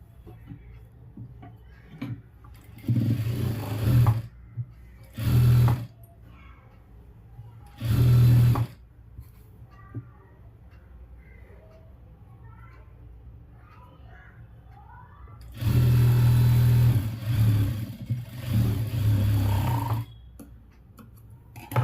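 A sewing machine stitches a sleeve joint in short bursts, several separate runs of steady mechanical whirring with a longer run near the end, set apart by quiet pauses.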